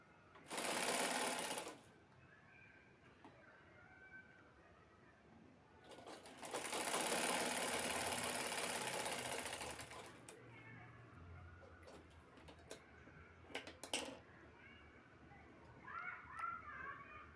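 A sewing machine stitches a baby cap in two bursts, one short and one longer run of several seconds, loud and close, with scattered clicks and handling noises between them and a voice speaking quietly.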